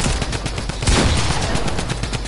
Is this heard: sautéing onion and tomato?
no